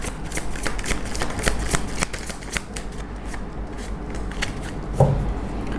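Tarot cards are shuffled close up in a steady run of rapid papery riffles and flicks that go on for several seconds, with one soft knock near the end.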